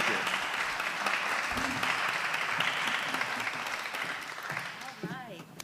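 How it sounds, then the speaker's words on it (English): A conference audience gives a round of applause to session guests, a dense, steady wash of many hands clapping at once that tapers gradually, with a voice briefly heard near the end. "Let's give them a round of applause for their time."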